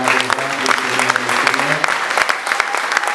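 A church congregation at a worship conference loudly cheers and applauds, steady dense clapping with crowd voices throughout, a sustained organ or keyboard tone beneath.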